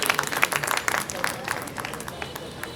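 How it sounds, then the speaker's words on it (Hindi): An audience at the inauguration of a Urdu book fair breaks into applause, a steady patter of many hands clapping in a hall, moderately loud and diffuse, with a voice speaking over it. "आप लोग उनके लिए तो ताली बजा रहे"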